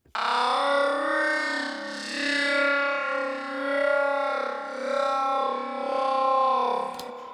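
A sustained, overdriven guitar tone smeared with reverb and echoing delay repeats, swelling and fading in slow waves without pause, no voices; overdrive and reverb feed into the delay in a speed garage production.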